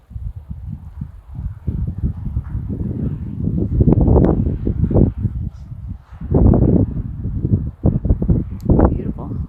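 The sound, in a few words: wind blowing at Santa Rosa State Park lake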